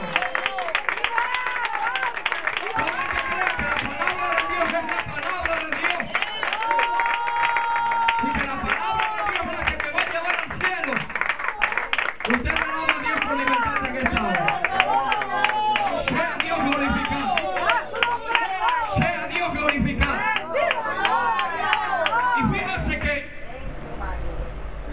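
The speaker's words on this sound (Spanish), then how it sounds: "que dan un aplauso grande al Señor." A church congregation claps and cheers, a dense sustained round of applause with crowd voices and a speaker talking over it, fading near the end.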